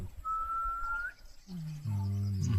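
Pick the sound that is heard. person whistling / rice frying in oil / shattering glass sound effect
person whistling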